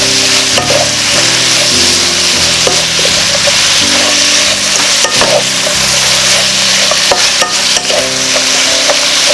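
Burdock root stir-fried in perilla oil, a loud, close, continuous sizzle with rhythmic scraping and stirring strokes of a utensil against the pan throughout.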